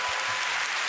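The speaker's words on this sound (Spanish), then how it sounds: "Se aplaude el rectificar" Dense audience applause during a Spanish comedy podcast recording, a brief continuous wash of clapping with no voices.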